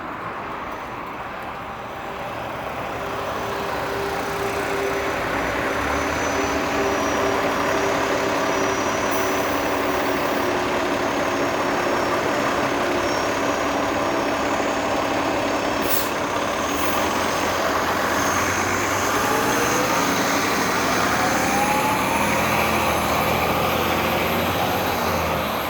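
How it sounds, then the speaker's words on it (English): A city bus on Toronto's Dufferin Street pulls past a cyclist on a hot day, its heavy engine droning loud and steady for the whole stretch, with brief hissing bursts and a gradual rise as it draws away. "Hopefully this bus will be able to get some separation on me."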